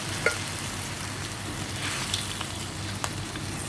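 Coconut milk poured into a pot of crab cooking with squash, giving a steady soft sizzle and bubbling hiss with a few faint clicks, close and alone with no talking.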